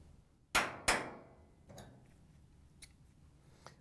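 Two sharp metallic snaps close together as big pliers compress and release a Whirlpool washer top panel lock, followed by a few faint clicks and taps of the part being worked free of the machine.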